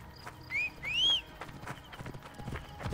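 Horse hooves clip-clop at an easy pace in the video game Assassin's Creed Origins, a light steady patter under faint game ambience, with a couple of brief whistle-like tones near the start.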